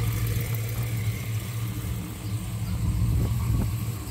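A 1971 Chevrolet convertible idles with a deep, steady exhaust rumble heard close from behind the car, the throb swelling slightly near the end.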